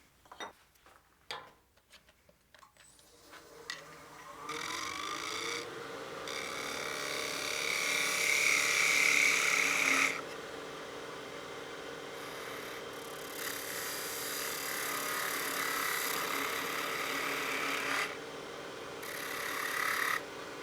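A wood lathe spins a wine glass blank while a tool cuts it, a steady whirring hum with a rising shrill scraping tone, preceded by a few sharp knocks at the start.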